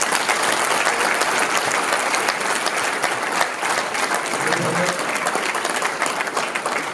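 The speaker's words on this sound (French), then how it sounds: "j'aimerais vraiment qu'on l'applaudisse très fort." An audience at a Hilloula gathering for Rabbi Haim Pinto in Marseille applauds loudly and steadily, a dense crowd clapping that continues for several seconds without pause.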